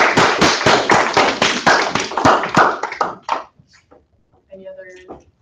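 A small group of people applauding a senator at an undergraduate senate meeting, with sparse, uneven claps that are loud and close at first, thin out, and stop after about three seconds, followed by a brief spoken word.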